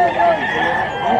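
A fighting rooster calls loudly and close at an animal market in Bocaue, its drawn-out cry blending with nearby clucking and a background of people talking.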